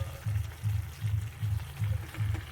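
Spinach hits hot oil in a pan for a chicken dish and fries quietly with a soft sizzle. A regular rhythmic stirring thump repeats about every 0.4 seconds underneath.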